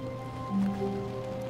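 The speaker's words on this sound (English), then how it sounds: "Yeah, there's definitely rain." Rain falls in The Stanley Parable video game as a soft, steady patter under low background hum and tones, faint and continuous with no break and no talking.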